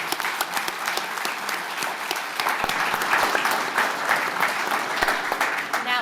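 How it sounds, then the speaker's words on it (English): Audience applause for the authors at a mine-disaster book panel event, sustained dense clapping from a crowd filling the room at steady volume throughout. "I think we should give a round of applause to all the authors before we start questions and answers."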